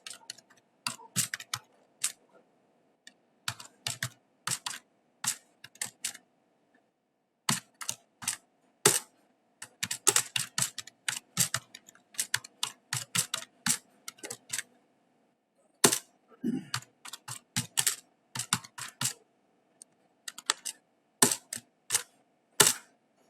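Bursts of computer keyboard typing, with crisp key clicks in quick clusters separated by short pauses, repeat through the whole stretch as a matrix multiplication program is written, with no speech over them.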